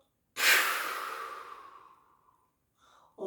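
A single long, breathy exhale during a relaxation breathing exercise starts strongly and fades gradually over about two seconds. It is close and alone, and a faint rustle follows.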